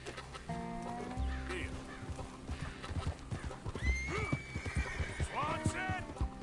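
A horse in Red Dead Redemption 2 whinnies and neighs while its hooves clip-clop at a walking rhythm, with a rooster clucking nearby and game characters talking over the scene.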